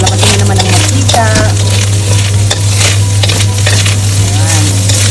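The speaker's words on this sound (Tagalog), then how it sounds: "igisa natin, palabasin na naman ang mantika" Pork sisig sautéing in a pan as the fat renders out: a loud, steady, close sizzle runs throughout, with constant stirring scrapes and occasional metallic clinks of a utensil against the pan.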